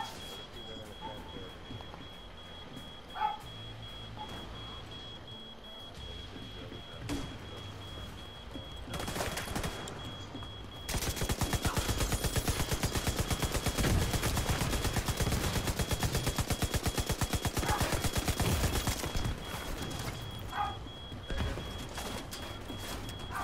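Gunfire in the tactical shooter game The Division 2, a steady stream of rapid automatic shots with scattered single cracks, loud and close throughout, under faint background game ambience and occasional voices.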